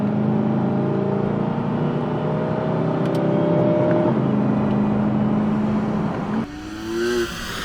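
A brand-new electric all-wheel-drive Corvette in manual mode, still in break-in and limited to 4,000 RPM, revs its engine. The steady, droning engine note holds loud and close, then dips and climbs again near the end.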